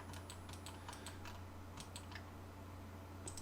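Keys tapped on a computer keyboard while entering AutoCAD commands, with a quick series of light, close clicks and a short pause before a final tap.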